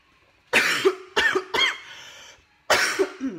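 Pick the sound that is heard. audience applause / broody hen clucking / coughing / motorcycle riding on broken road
coughing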